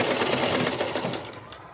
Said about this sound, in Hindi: ये अभी हम शोल्डर पे सिलाई लगा रहे हैं।